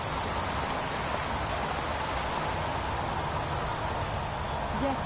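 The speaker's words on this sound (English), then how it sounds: "Goddamn rain. Hasn't stopped pouring since I arrived." Steady pouring rain in the game Heavy Rain, a dense, even wash of downpour holding at constant moderate loudness throughout with no voices over it.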